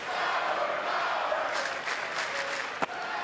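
A college baseball crowd at the College World Series, Texas against Georgia, chanting the Sour Power chant in unison, a broad roar of many voices with rhythmic swells, loud and sustained throughout.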